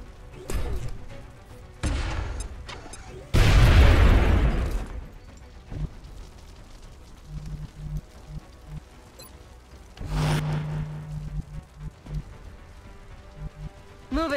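Enemy gunfire erupts in the video game XCOM: Enemy Within as one long, loud burst of rattling blasts, with shorter bursts of fire before and after it.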